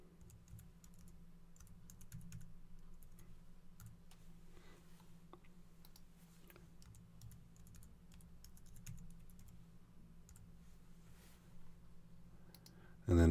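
Steady keystrokes on a computer keyboard while a password is entered, a run of fairly quiet, even clicks and taps over a low hum, with one louder knock right at the end.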